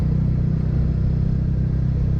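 A motorcycle's stock exhaust muffler runs steadily near the microphone, a low, continuous rumbling drone with slight revving swells and no voices.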